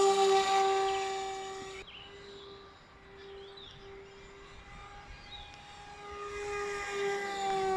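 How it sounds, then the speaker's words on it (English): Electric RC model airplane motor at full throttle, a loud high whine that fades as the plane passes away and swells again as it returns near the end. "Full throttle all the time with this battery and no risk of overstressing the motor or the airframe"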